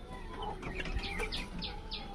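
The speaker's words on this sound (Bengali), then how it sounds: "ওই দেখো মুরগি কটা নিচে খুব আনন্দ পায়" Chickens on the ground make a series of short, sharp clucks in quick succession, fairly near, over a steady low background hum.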